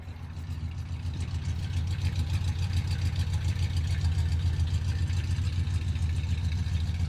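A 1974 Dodge Monaco Bluesmobile replica sits idling, its engine giving a steady, deep, even rumble at close range that holds for several seconds without anyone speaking.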